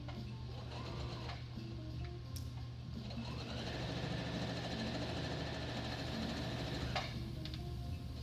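A sewing machine sewing off the end of a seam, a rapid steady mechanical whir and needle chatter running continuously, close and fairly quiet, no talking.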